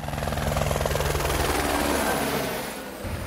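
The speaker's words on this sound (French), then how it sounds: "un hélicoptère bombardé d'eau est stationné dans la zone des feux" Water-bombing helicopter at Koné airfield during wildfire season, its rotor thumping in a steady, loud, close rhythm with engine whine that eases slightly toward the end.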